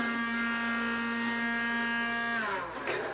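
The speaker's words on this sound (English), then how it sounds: "Turn off the vacuum, Lennon." A household vacuum cleaner runs with a steady, loud harmonic whine that holds for over two seconds, then sputters and drops away near the end as it is switched off.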